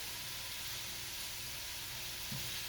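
Steak strips seasoned with fajita seasoning and garlic sizzle in a pan with a constant, even hiss, near and fairly quiet. A faint thump comes near the end, and no voices are heard.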